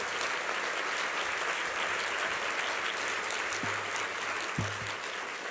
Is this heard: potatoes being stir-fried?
no